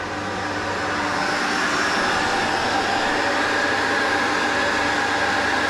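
A pump runs steadily while processing waste vegetable oil, giving a loud, constant whirring hum with no breaks and no voices.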